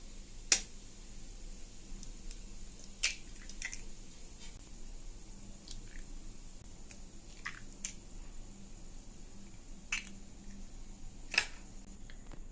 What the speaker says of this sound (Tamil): இதில் நம்ம முட்டையை உடைச்சி சேர்த்துக்கலாம்.